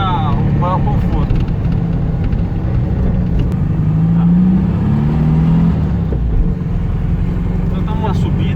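A 1986 Volkswagen Beetle climbs a steep hill of about 40 degrees, holding near 1,500 RPM. Its engine keeps up a loud, steady drone with a slight rise partway through, and a voice talks over it.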